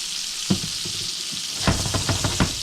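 Deer tenderloin fries in a pan with a steady close sizzle and crackling hiss, with a few soft pops and stirring clicks scattered through.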